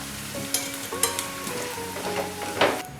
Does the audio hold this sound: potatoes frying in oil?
yes